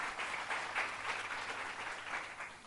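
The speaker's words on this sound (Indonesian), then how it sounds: "Yang mengerti berikan tepuk tangan." Applause from a church congregation during a fasting prayer service, steady dense clapping sustained throughout at moderate level with no voices.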